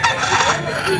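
A gamecock stag rooster crows at a pet market, a loud, close, full-bodied call filling the entire second, with faint crowd chatter underneath.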